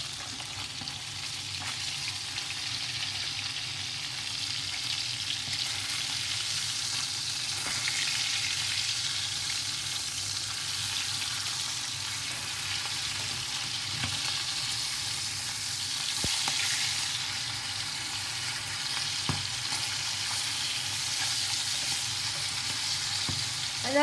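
Salmon pan-fries after being flipped, a dense, even sizzle that holds steady and fairly loud for the whole stretch, with a few faint clicks and pops and no talk.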